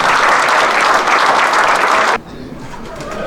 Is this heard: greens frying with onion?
no